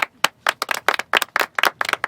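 A small group claps at an outdoor gathering of Jeep XJ owners, giving roughly a dozen distinct, close, uneven bursts of hand claps with short gaps between them.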